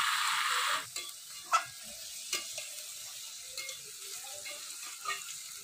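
Poultry chicken legs fry in mustard oil: a loud burst of sizzling at first, then a quieter simmering crackle broken by a few sharp utensil clinks against the pan.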